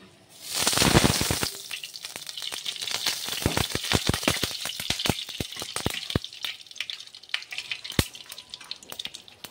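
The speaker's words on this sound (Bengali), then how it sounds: "কড়াই গরম হয়ে গেলে এবার কড়াইতে তেল দিয়ে দিচ্ছি।" Oil hisses and sizzles loudly as it hits a hot kadai while chicken is being cooked, a burst of frying followed by steady crackling and spitting pops that continue to the end.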